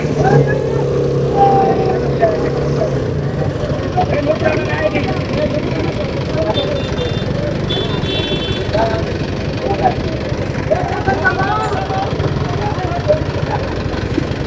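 A traffic jam on a road: idling car engines rumble steadily in a dense, continuous wash, with a few brief tonal horn-like blasts rising out of the noise midway.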